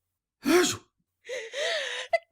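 A woman's theatrical gasp rises sharply and then trails into a drawn breathy vocal sound, the Duchess in a dramatized Alice in Wonderland reading.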